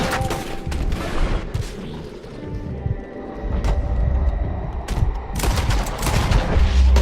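Gunfire fills a Red Dead Redemption 2 shootout, with dense bursts of cracking shots and booms rolling over one another, loud and close, almost without pause and with no voices over them.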